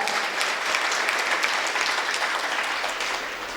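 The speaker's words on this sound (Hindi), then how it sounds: "ये तालियां बजा रहे हो ना" A crowd at a Jain religious ceremony claps steadily and densely, the applause holding level and then easing slightly toward the end.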